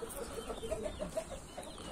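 A bearded rooster, let out to roam, gives a quick series of soft, close clucks in a short run.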